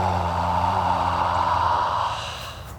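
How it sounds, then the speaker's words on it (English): A slow, steady breath pushed out through the mouth during a breathing exercise, a soft close airy rush that holds evenly and then tapers off at the end. "I exhale through the mouth. Either make a ha or an ah sound."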